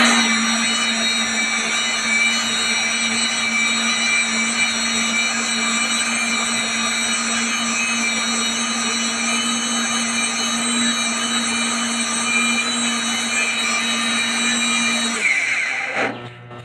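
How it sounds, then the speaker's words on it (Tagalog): A blender blending ingredients for green rice whirs at a constant high pitch for about fifteen seconds, then abruptly winds down and stops. "Ito na guys, mag-blender na ako."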